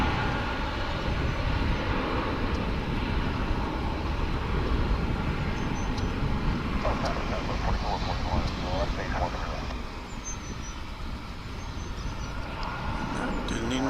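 A jet airliner taking off at Dallas/Fort Worth International Airport, a loud continuous roar of engines filling the whole stretch and easing slightly toward the end, with faint voices under it.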